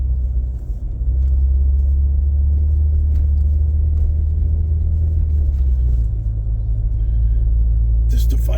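A Maserati drives along a snowy road near Niagara Falls, with a steady low engine and road rumble filling the interior, broadly constant with a slight shift partway through and a brief sharper noise at the end.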